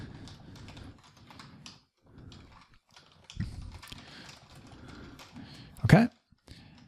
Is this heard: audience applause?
no